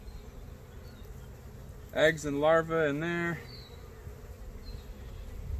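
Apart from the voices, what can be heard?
honey bees buzzing in an opened hive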